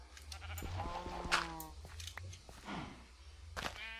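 Minecraft sheep on a modded Thaumcraft wool ranch bleating several times in short wavering calls, fairly quiet against a low machine hum.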